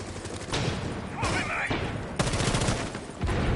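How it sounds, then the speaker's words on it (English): A flashbang grenade goes off in Rainbow Six Siege during a competitive match, heard as bursts of sharp gunfire-like blasts and thumps amid game noise, with a voice talking over it. "Flashbang."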